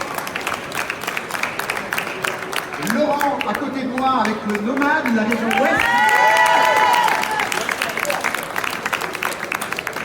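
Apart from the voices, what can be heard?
audience applause for burger finalists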